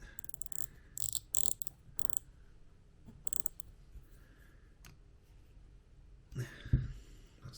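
A small screw is driven into a fly fishing reel during a drag washer rebuild, giving sparse metallic clicks and ratcheting ticks in short bursts, with a louder knock near the end.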